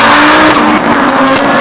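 Austin Rover Group B rally car engine revving hard, a loud, close, continuous raspy roar that rises and dips briefly.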